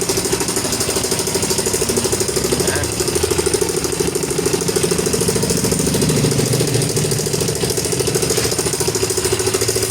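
Noisy Yamaha Mio i 125 scooter engine running at idle nearby, with a loud, rapid knocking clatter as if parts are banging inside, steady throughout with no talk.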